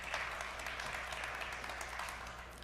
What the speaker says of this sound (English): Don't have to applaud.